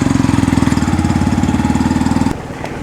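Japanese-made motorbike engine idling close by with a steady, rapid chugging thump, loud and even, before cutting off abruptly near the end with brief quiet rumble afterward.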